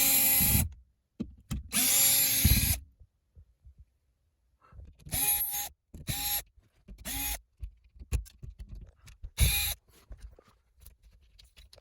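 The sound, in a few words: power drill removing bolts from a wall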